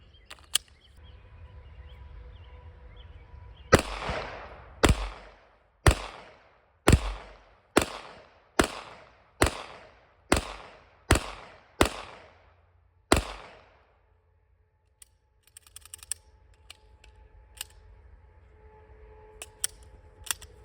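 A Sig Sauer P365 pistol test-fired outdoors, about eleven sharp shots spaced roughly a second apart, loud with ringing decay, followed by faint handling noise.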